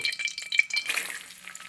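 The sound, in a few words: garlic sizzling in hot sesame oil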